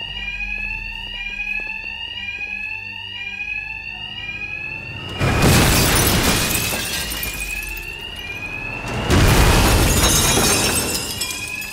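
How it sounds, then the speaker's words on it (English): Bank alarms in Batman: Arkham Knight ring as a loud, repeating electronic tone, broken twice by heavy crashing bursts like shattering glass. "these thugs can't hear a thing over the alarms."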